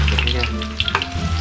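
Fish cakes sizzle and crackle in hot oil in a pan, a dense, close, continuous frying hiss with occasional sharper pops and clatter.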